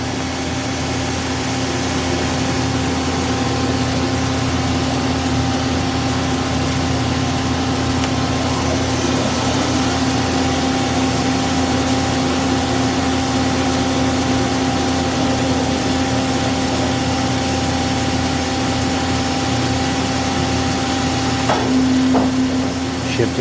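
A Mori Seiki SL-75MC CNC lathe with C-axis runs steadily in low gear at low speed, giving a continuous even mechanical hum with a sustained motor tone. The sound stays close and unchanging throughout, with a faint clunk near the end.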